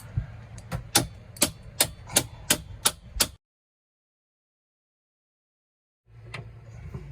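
Sharp metallic hammer blows strike at a steady rhythm, about eight hits close by, then silence before faint background noise returns.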